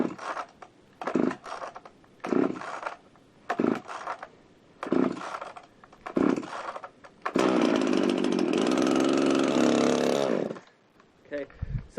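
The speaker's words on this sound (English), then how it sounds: "I give it a couple pulls, and when I hear it try to turn over, then I turn the choke off" Husqvarna Rancher 55 chainsaw in freezing cold, pulled several times in short rattling bursts before the engine catches and runs loudly and steadily for about three seconds, then cuts off.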